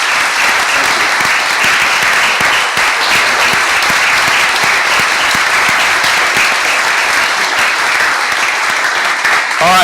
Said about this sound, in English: a general round of applause